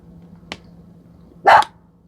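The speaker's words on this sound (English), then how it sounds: "What are you barking at?" A single sharp dog bark, fairly close, after a faint earlier yelp, over a low steady hum.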